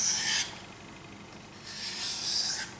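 A Ka-Bar KA4065 Dozier knife drawn across a Japanese water stone, two short, close abrasive strokes separated by a quiet pause, with no voice over them.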